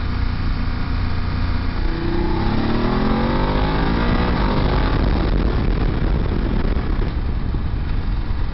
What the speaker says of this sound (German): da beginnt der Motor schon richtig zu brüllen